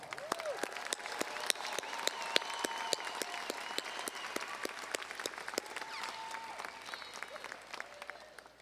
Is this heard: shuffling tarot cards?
no